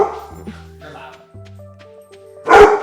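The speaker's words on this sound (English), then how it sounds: "That's Lilo. Yeah, it's definitely her barking." A pet dog barks loudly and close by at the end, after quieter whimpering, yips and a low growl-like tone, while people talk over a gaming stream.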